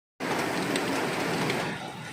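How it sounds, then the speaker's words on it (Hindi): Heavy rain pours steadily outdoors, a dense, loud hiss of downpour that continues without a break and eases only slightly toward the end. "ऐसे बारिश ना बहुत तेज़ हो रही है"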